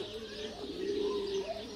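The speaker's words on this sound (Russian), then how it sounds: "Голуби." Pigeons coo in a bird park at a zoo in Nicosia, Cyprus, a low steady cooing close by with faint chirps and a murmur of background ambience.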